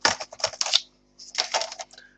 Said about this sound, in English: Then we can lift off the keyboard.